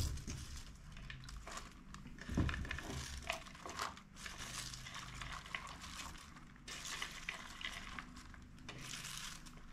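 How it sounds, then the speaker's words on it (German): A large heap of shredded cabbage tumbles into a big cooking pot already holding water, giving close rustling, crunching and splashing bursts with one heavier thump, no talking. "Und als nächstes müssen wir hier die Riesenmenge an Kohl auch irgendwie in den Topf kriegen."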